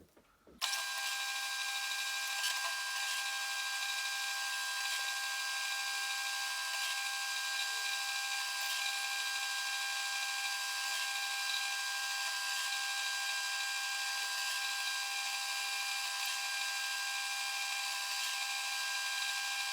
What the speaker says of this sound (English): Let's do a quick tool change to the drill and go back the other way.